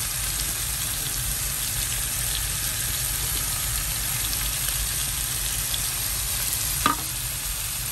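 Rice vermicelli fries in a pan for fried bee hoon with soy sauce, giving a steady, dense sizzle with a soft clink near the end. No one speaks.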